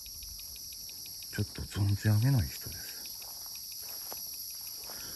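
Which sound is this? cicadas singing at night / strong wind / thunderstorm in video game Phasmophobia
cicadas singing at night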